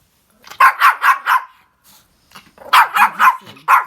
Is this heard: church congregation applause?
no